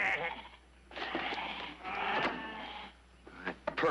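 A flock of sheep bleats in a western ranch setting, several overlapping wavering calls in quick succession, fairly close and loud with brief pauses between them.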